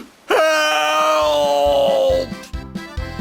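A wolf in a children's story screams after falling into a pond, one long drawn-out wailing cry acted by a voice, loud and close, followed by short choppy vocal sounds.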